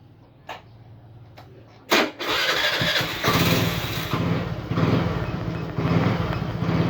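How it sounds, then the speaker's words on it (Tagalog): A Suzuki Burgman scooter with an idle fault that makes it stall is started. A couple of clicks lead to a cranking burst, then the engine catches and runs with a close, steady, slightly uneven idle. "Tapos, start natin yung motor."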